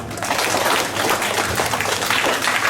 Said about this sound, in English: Let's give us some applause.